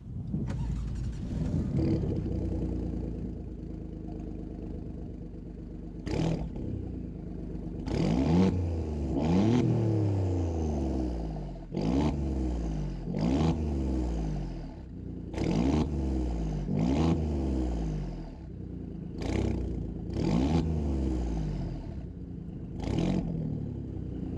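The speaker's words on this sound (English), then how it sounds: "So let's hop to the back and hear that gorgeous exhaust." An Alfa Romeo Giulia Quadrifoglio V6 engine revs repeatedly from the rear, with a deep, throaty exhaust rising and falling in a series of sharp blips and bursts.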